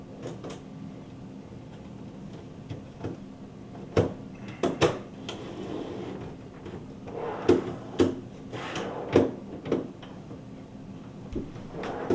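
Refrigerator freezer basket rails slide into place, making a series of close wooden-sounding knocks and light scraping clicks in irregular bursts against a quiet room.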